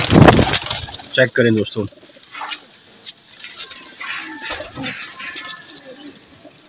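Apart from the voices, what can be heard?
pigeons cooing in loft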